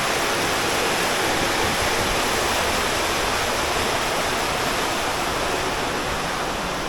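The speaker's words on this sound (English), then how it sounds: "Another little pool. Another little cascade." A small waterfall cascades into a little pool inside a cave area in Colombia, producing a loud, dense, unbroken rush of falling water heard close up with no pauses.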